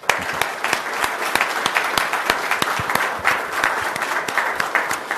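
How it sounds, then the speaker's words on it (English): A room at a city council meeting breaks into a round of applause, crisp individual claps standing out over a steady bed of many hands, continuing evenly throughout. "I'd like to give you a big round of applause"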